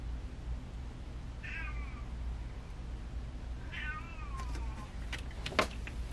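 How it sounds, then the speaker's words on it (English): A male house cat, said to sound sick though he is not, lets out two drawn-out, wavering meows indoors, followed by a few sharp clicks and knocks over a low steady hum. "That's my cat."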